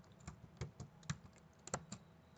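Typing on a computer keyboard while searching in Windows 11, a few close, irregular key clicks and taps spread over a couple of seconds, with no voices.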